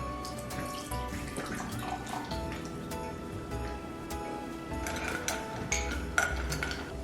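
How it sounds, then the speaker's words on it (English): Apple cider poured into a holiday cocktail glass already holding an ounce of Woodford bourbon, a steady liquid splash with faint clinks of glassware throughout, close and moderately loud. "we're going to be adding in the half cup of apple cider"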